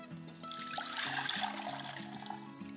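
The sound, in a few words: coconut water poured through a strainer into a glass pitcher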